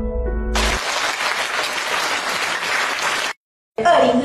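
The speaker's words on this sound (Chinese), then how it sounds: "给她以热情的掌声" Loud audience applause fills a concert hall at a thank-you concert by a wheelchair-bound singer, continuing steadily for about three seconds before stopping abruptly, followed by a voice over a microphone.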